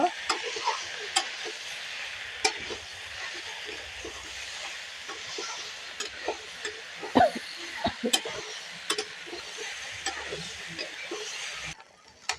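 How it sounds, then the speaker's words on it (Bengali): A spatula stirs ginger and dry red chili paste through hot oil in a frying pan while cooking a katla fish head curry with potatoes, giving a steady scraping, sizzling hiss with sharp clinks of utensil on pan throughout. "এর মধ্যে এখন দিয়ে দেবো আদা আর শুকনো লঙ্কা বাটাটা এটাকে ভালো করে নাড়াচাড়া করে মিশিয়ে নেবো"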